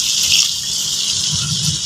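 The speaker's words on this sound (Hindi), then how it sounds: "और यहाँ पे मैं पानी ऐड करूँगी।" Water gushes steadily into curry gravy in a pot while an egg and chickpea curry is cooking, a loud continuous pour close by with no talk.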